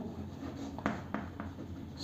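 A few short, faint strokes are written on a board during a chemistry lesson, each a quick scrape over a low room hum.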